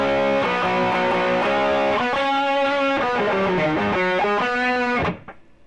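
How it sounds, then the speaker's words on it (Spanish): Electric guitar played through a Jekyll & Hyde pedal with overdrive and distortion stacked, giving loud, saturated sustained chords that shift every second or so before cutting off abruptly near the end. "Vamos a sumar con el overdrive, con la distorsión."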